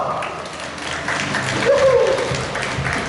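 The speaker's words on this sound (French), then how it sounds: "On peut m'applaudir bien fort, hein?" Audience clapping at a 2019 salon presentation about doma vaquera, the Spanish cattle-working riding style, with applause mixed with a voice, fairly loud and steady throughout.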